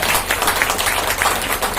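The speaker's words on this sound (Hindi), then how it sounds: "ताली बरसात होती है" Loud, dense applause from an audience at a local community programme in Jaynagar, a continuous crowd clapping that stays full and even throughout with a faint low hum beneath and no speech.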